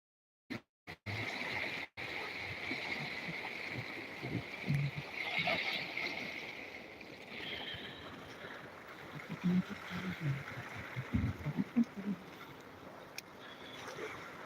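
Sea waves break and wash up on a beach close to a camera at ground level, a continuous roaring surge with swelling and receding rushes, a few loud knocks at the start, no voices.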